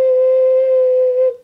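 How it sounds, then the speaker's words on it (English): A six-hole ocarina sounds a single held low C, a pure steady whistle-like tone lasting just over a second before cutting off, loud and close. "is a low C. So again, it sounds like this."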